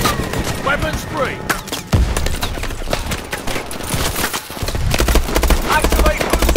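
Dense, loud gunfire from the video game Call of Duty Advanced Warfare, with continuous automatic bursts and explosions running throughout, mixed with game sounds and shouted dialogue.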